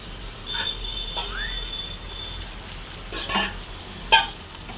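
Coriander powder and ginger-garlic paste stir-fried into a masala in a hot pan, a steady low sizzle with scraping stirs and a couple of sharper utensil knocks toward the end.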